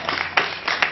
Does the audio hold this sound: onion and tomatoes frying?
no